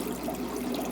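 Water sloshing and trickling as it is scooped out of the main tank of an indoor 100-gallon guppy pond, a short, steady close-up wash of liquid with no voices.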